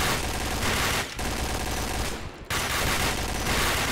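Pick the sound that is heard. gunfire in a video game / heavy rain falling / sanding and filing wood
gunfire in a video game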